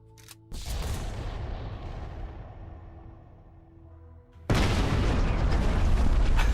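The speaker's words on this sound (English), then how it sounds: "The explosion's a bit much for the scale and size of this, but it's kind of cool." A Halo 3 forge mod explosion effect goes off as a loud burst with a long rumbling decay, then a second heavy blast starts and keeps roaring to the end.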